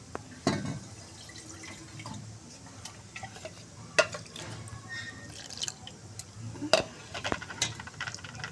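Ground coriander juice strained through a sieve, liquid dripping and trickling into a vessel with scattered sharper drops and small clinks of utensils, close and fairly quiet.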